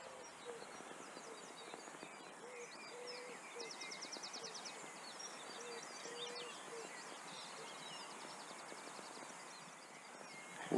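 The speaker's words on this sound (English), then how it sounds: "You can hear the call and answer of the wood pigeon in the tree there, and another one in the distance." Wood pigeons coo back and forth in trees along the Avon Valley in Bristol in early morning: one nearby, another distant, their soft, repeated calls faint under a constant background hush.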